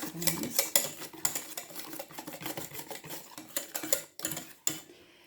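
Cake batter being stirred in a bowl, a fast run of light clicking and tapping strokes from a utensil against the bowl's side, close and steady with no talk.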